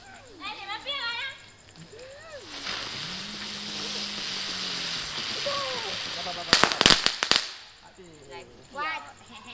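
Firecrackers and fireworks set off outdoors on Chinese New Year's Eve: a sustained hissing fountain of sparks, then a sharp cluster of rapid crackling bangs, with people chatting and calling nearby.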